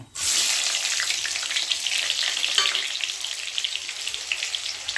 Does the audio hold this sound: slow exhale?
no